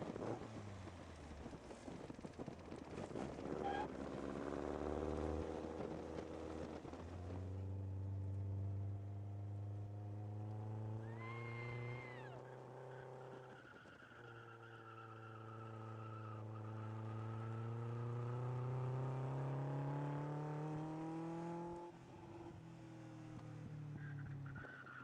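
A powerful, fast Lotus sports car drives past, its engine note rising and falling in long sweeping pitch changes, loud and close, with no talking.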